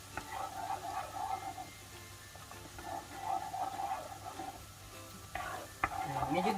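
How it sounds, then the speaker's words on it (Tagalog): Soy sauce added to garlic already sizzling in a pan: bursts of frying hiss rise and fall with stirring, then a sharper surge near the end, over a low steady hum, with no speech. "lagay na natin tong soy sauce"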